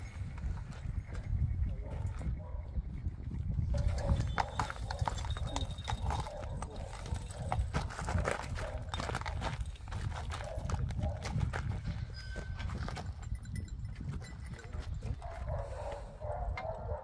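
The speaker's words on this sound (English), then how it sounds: "bring his horse a little bit closer to his dad's and just tie it off so it doesn't attempt to run away" Horse hooves clip-clop steadily at the Appleby horse fair as the animal is led closer, heard over a busy outdoor crowd, with a dog barking at times and people talking.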